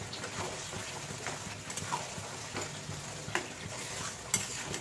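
Mutton sautés in a pan with yogurt and Kashmiri red chilli powder, giving a soft sizzle with intermittent scrapes and clinks of a spatula stirring; quiet, with no talking.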